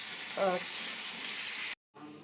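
Bitter gourd, potato, drumstick and bori curry fries in a pan with a steady, soft sizzle that cuts out briefly before resuming, while a voice speaks quietly over it.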